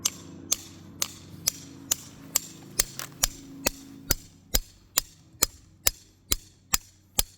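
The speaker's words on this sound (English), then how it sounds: "I'm just using this little tiny tack hammer and a regular hammer and just using the 2 together to" Sharp metallic hammer blows from a small tack hammer and a regular hammer knock bolts out of curb ramp hardware. About seventeen evenly spaced, ringing strikes fall roughly every half second, close and alone.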